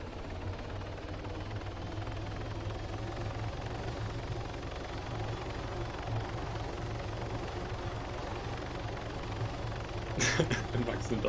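A helicopter in the military game ARMA 3 gives a continuous low rotor drone and engine rumble throughout. A short sharper burst comes near the end.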